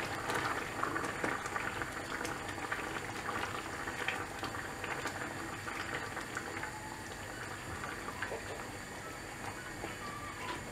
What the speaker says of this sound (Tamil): இப்போ குழம்பு நல்லா கொதிச்சாச்சு